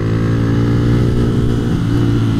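A motorcycle engine drones steadily and loudly while the bike is ridden on an open road, holding a constant, close, rumbling tone with slight pitch wavering and no speech.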